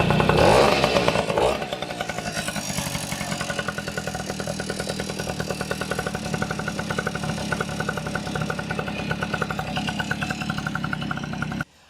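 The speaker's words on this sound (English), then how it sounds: "Because this engine spins counterclockwise, you put the drill in reverse." A drill spinning a Tomos A35 moped flywheel in reverse makes a steady mechanical whir with a fine rapid rattle. It holds nearly constant for about ten seconds after a louder start, then cuts off abruptly.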